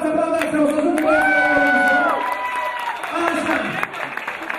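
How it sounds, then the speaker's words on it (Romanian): Wedding guests applaud and cheer in a loud crowd while a musical tone and voices ring out over the noise; the clapping stays dense and continuous. "Iar voi aplaudați, aplaudați"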